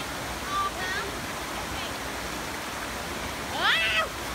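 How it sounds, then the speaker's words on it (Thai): A waterfall at a forest swimming spot in Thailand pours steadily, a broad constant rush of water filling the background while people talk and call out over it. "น้ำตกสวยมาก"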